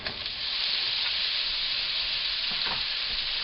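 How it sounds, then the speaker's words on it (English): Cubed Spam hitting hot oil in a wok, a steady loud sizzle and crackle of frying that holds evenly throughout with no talking. "I added some oil again. And the next step is going to be our Spam that I've chopped into cubes."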